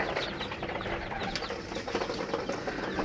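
Native pigeons kept in a home loft, with soft cooing and bird calls, wing flutters and rustling close by throughout, all fairly loud.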